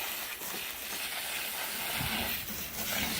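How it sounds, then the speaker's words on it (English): A garden hose sprays water to wash dirt off the wood and roots of an apple bonsai during repotting, a steady, close, continuous hiss with no one speaking. "I need to spray all the dirt off the wood"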